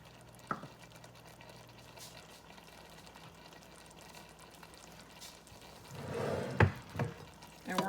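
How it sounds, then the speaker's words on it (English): Stirring mixed vegetables and okra in a soup pot for old-style homemade vegetable soup: faint quiet scraping at first, then louder wet sloshing and clanking of a spoon against the pot near the end. "we're going to give that a light mix"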